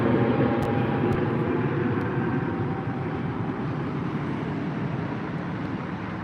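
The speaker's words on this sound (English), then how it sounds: "A321 off to Istanbul with Turkish Airlines" A Turkish Airlines A321 airliner at Heathrow airport gives a continuous broadband engine roar that holds steady and eases slightly, with no speech over it.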